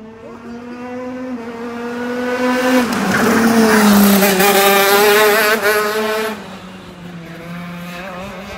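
A KZ racing kart with a Maxter engine and direct drive running on the OAA circuit, its high-pitched two-stroke engine climbing as it passes close by, peaking loudly and then dropping away as it recedes.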